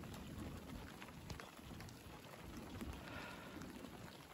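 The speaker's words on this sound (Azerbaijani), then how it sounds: "Yağış yağmağa başladı." Steady rain falling outdoors in the village of Kosalar in the Khojaly district, a soft, even hiss of drops that runs unbroken and fairly faint, with no voices.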